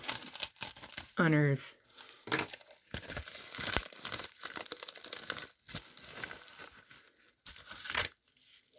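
Mail packages holding vintage NBA cards being ripped open by hand, with bursts of tearing and crinkling paper up close, broken by a voice talking.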